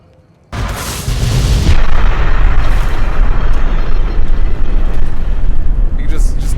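Carpet bombing in Fallout New Vegas sets off a heavy explosion that opens into a loud, sustained rumbling roar of blasts, with a faint crackle near the end and no voices.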